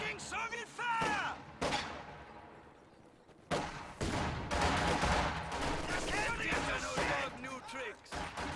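Soviet troops firing in a real-time strategy match, bursts of rapid gunfire and sharp shots in clusters, with game voice lines and battle noise mixed throughout.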